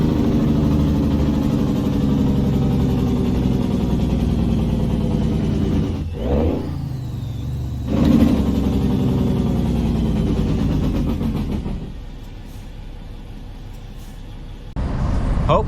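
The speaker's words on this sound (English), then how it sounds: "I'll put a little clip in of some Jake brakes so you can hear what they're like." Truck Jake brakes, a loud, sustained rattling engine drone that drops away and returns in long stretches, sounding close and continuous with no talk over it.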